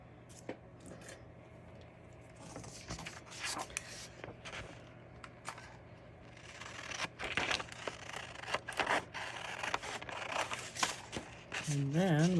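Scissors cutting around a paper picture of seahorses in a gift craft project, with close, intermittent snips and crinkling paper rustles, louder toward the end, and no talk.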